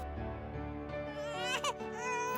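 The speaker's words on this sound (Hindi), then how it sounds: "ओहो, बेबी की रोने की आवाज" An infant cries indoors in a home setting: a short, wavering wail with rising, strained pitch, fairly close, heard over a soft tonal background.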